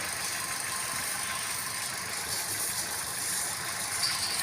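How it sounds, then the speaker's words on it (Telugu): A 2014 Hyundai Grand i10 Sportz petrol hatchback with about 96,000 km idles steadily at close range, giving a smooth, even engine hum with no voices over it. "బండి చూడండి స్టార్ట్ అయ్యింది, ఇంత నాయిస్ లేదండి ఇంజన్లో."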